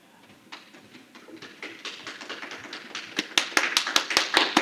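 A room audience applauds a speaker, starting with scattered, faint claps that grow louder, denser and sharper into a crisp, rhythmic round of applause.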